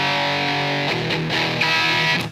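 Electric guitar through a Hughes & Kettner amp on its lead channel, heavily distorted sustained chords and notes ringing loud and alone.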